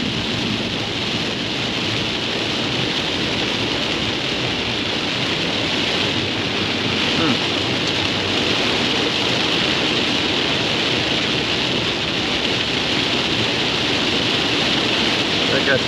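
A constant rushing wash of water as a car's tires spray through a flooded road in Jessamine County, Kentucky, with heavy rain roaring steadily throughout.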